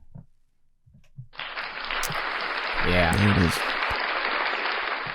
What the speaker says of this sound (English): Saka gets a round of applause